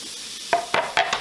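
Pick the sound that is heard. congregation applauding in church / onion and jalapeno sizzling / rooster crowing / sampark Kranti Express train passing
onion and jalapeno sizzling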